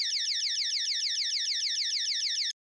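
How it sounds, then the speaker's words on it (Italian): A Protect 6030 alarm system sounds its acoustic warning after the radio remote's panic button is pressed: a loud, rapidly repeating electronic warble that runs continuously, then cuts off abruptly. "l'impianto d'allarme rilascia un allarme acustico di avvertimento"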